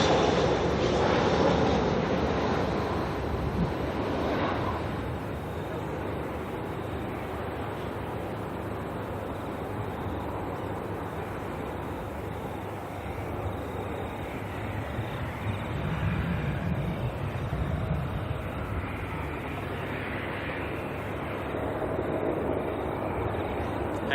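A Solomon Airlines Airbus A320 airliner at Auckland Airport gives a broad, continuous engine roar that is loudest at the start and then holds steady, fairly close, with no speech.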